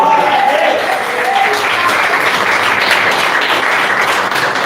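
Loud, continuous applause from a church congregation, dense clapping filling the whole stretch with voices mixed in beneath it.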